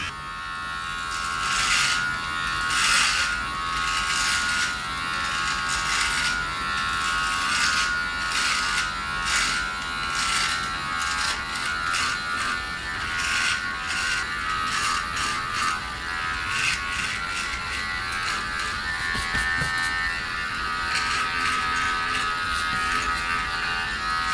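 A Manspot electric groin and body trimmer fitted with a 3mm comb buzzes steadily and close up while trimming chest hair, its constant motor hum broken by rhythmic rasping strokes as it passes over the hair.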